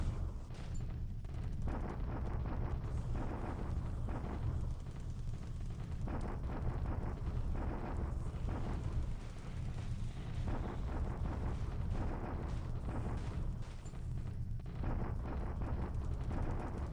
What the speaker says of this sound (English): Starting with bombardment up here near Kanko